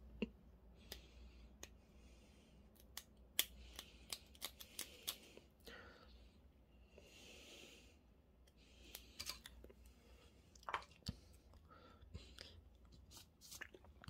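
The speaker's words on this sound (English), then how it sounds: "So I will cut the propeller shaft" A plastic propeller shaft from a 1:48 Hasegawa Kawanishi N1K2-J Shiden Kai kit is snipped and trimmed at a quiet workbench, giving close, faint, scattered clicks and crisp little cuts with pauses between them.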